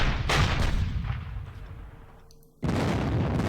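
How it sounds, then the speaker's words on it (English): Heavy siege guns firing in a Panzer Campaigns Bulge 44 wargame: a booming artillery blast that rumbles and fades over two seconds, then a second loud report cuts in sharply. "That's what we want. Heavy siege guns."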